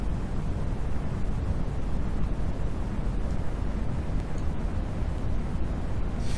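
A rocket engine roars in the video game Kerbal Space Program during a launch climb, a dense, steady, hissing rumble that stays loud and unbroken throughout with no voices over it.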